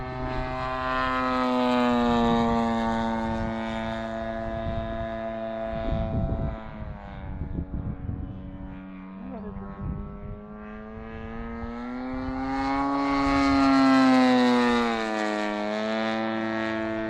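A small engine on a scratch-built high-wing model airplane runs steadily for a long stretch, a loud buzzing drone whose pitch dips through the middle and rises again near the end, with no talk.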